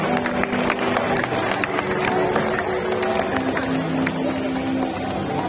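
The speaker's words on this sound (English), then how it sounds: "Let's give them a big round of Oh, applause." A crowd in a bird show theatre in Singapore breaks into sustained applause, dense steady clapping with voices mixed in throughout.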